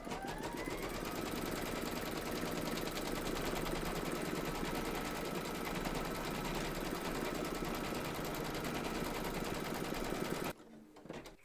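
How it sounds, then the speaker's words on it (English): An embroidery machine stitches an in-the-hoop reindeer towel topper, a loud, steady, fast mechanical stitching rattle that runs unbroken for about ten seconds, then stops abruptly, leaving faint quieter sounds. "Pop your hoop into your machine and stitch round number 8 to secure it."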